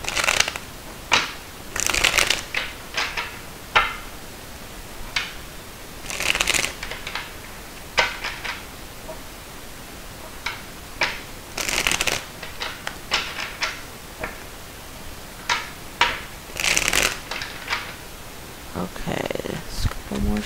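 Repeated bursts of tarot cards being shuffled and riffled, brisk rustling flurries spaced a few seconds apart, close and fairly loud, with no talking.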